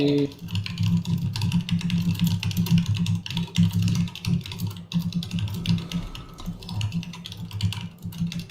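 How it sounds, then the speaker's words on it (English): Heavy, rapid typing on a mechanical keyboard, a dense continuous clatter of hard keystrokes that fills the whole stretch, loud and close, with a low hum running underneath. "Someone has a mechanical keyboard and is like beating that thing to death."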